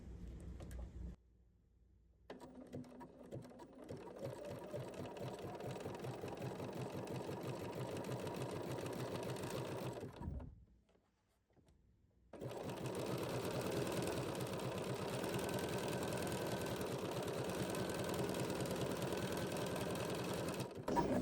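A sewing machine fitted with an overlock foot stitches fabric in two long, steady, close-up runs with a quick mechanical hum and needle chatter, separated by short pauses, with a brief start at the beginning.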